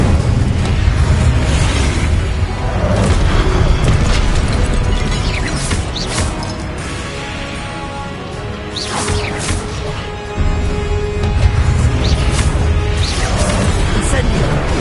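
Incendio fire spells cast in the Hogwarts Legacy video game, a dense run of whooshing bursts and booms that keeps going loud for about fifteen seconds, mixed in with other spell effects.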